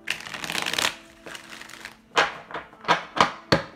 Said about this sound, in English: I've already been shuffling, meditating on your deck for a while